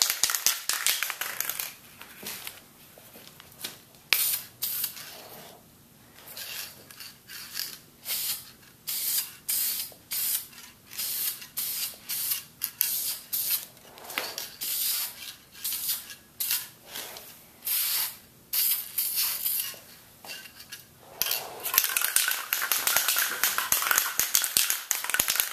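Spray gun laying a light first coat of paint on wet-sanded shock mounts for a 2004 Harley-Davidson Dyna Custom, heard as many short hissing bursts in an irregular rhythm, loud and close, with no talking.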